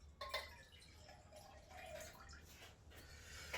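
Clear solution being poured into a laboratory beaker, a soft trickling and splashing of liquid, faint and close, with a few brief drips.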